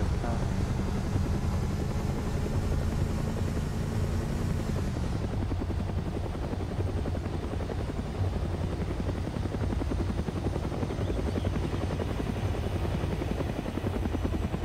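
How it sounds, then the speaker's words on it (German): A helicopter in the video game DayZ passes close by, its rotor chop and engine roar loud at first, then the pitch drops and the drone continues steadily as it moves off, with no talk over it. "Das war wegen dem Heli, der an uns vorbeigeflogen ist"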